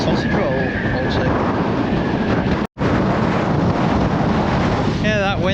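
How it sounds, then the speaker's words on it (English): Strong wind roars across a seaside promenade in Blackpool, a loud, steady buffeting rush against the microphone that drops out briefly midway, with a voice speaking over it. "that wind is blowing some"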